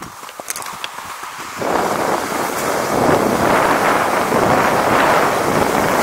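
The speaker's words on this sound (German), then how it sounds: "Jetzt ist wenig Wind." Steady wind roars across an open snowkiting spot on a snowy field, a broadband rush that turns louder and fuller partway through and then holds constant with no talk.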